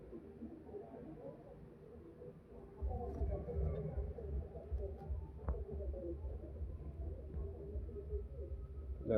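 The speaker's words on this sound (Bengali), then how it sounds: "ভাইয়ের ঘরে সমস্ত পায়রাই কিন্তু সব জামনি পাঞ্জার পায়রা রয়েছে" Jamni Panjar pigeons on a hot rooftop give low, throbbing coos that swell from about three seconds on and then stay steady, with a faint hum underneath.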